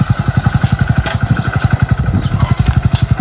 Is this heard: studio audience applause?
no